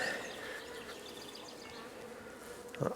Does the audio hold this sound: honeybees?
yes